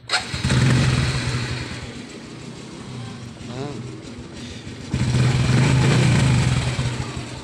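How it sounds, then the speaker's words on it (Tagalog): A motorcycle with a strong battery and an aftermarket Apido exhaust pipe is push-button started. The engine catches and settles into a quiet, mid-pitched idle that surges twice, while someone talks over it. "Ito ang kanyang push start."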